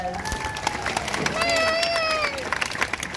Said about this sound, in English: If everyone wants to give our volunteer a round of applause.